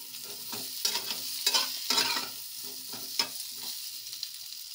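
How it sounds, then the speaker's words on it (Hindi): Spices, including red chilli powder and garam masala, roast lightly in a pan for an aloo parval fry, giving a soft steady sizzle broken by several scraping stirs, close and fairly quiet with no talking. "मसालों को हल्के से भून लें।"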